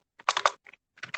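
Short burst of typing on a computer keyboard, a few quick close key clicks, a brief pause, then more keystrokes including an Enter press, with no talking.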